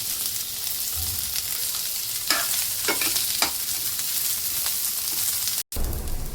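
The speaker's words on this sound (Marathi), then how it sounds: "कांदा भाजून घ्यायचा आहे आपल्याला। कांद्यामध्ये अर्धा चमचा तेल टाकून घेऊया।" Onion frying in a little oil in a pan gives a dense, even close-up sizzle with a few soft stirring scrapes in the middle and a brief cut-out near the end, with no voices.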